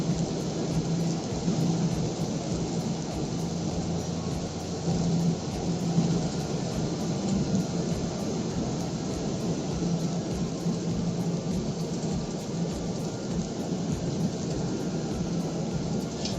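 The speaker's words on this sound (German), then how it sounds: "Jetzt regnet das doch hier" Steady heavy rain drums on a moving car during a drive, a dense continuous hiss with low rumbling underneath and no talk.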